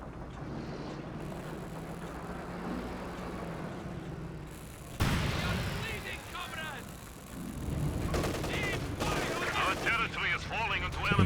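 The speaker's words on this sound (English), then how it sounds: "In goes the incendiary artillery." Incendiary artillery in the strategy game Company of Heroes 2 lands as a sudden heavy blast followed by crackling bursts and rumbling impacts, set against wind-like battlefield noise, with a voice talking over it.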